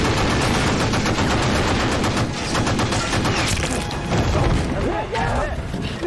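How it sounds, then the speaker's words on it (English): Sustained, loud gunfire in a war-film beach battle, rapid machine-gun bursts and overlapping shots aimed at a coastline, dense and continuous for several seconds with shouting voices mixed in. "Skip says to lay down fire at the coastline."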